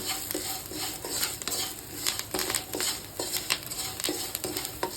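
A spoon scrapes and clatters through salted potato fry in a pan, irregular stirring knocks over a light, continuous sizzle, close up with no talking.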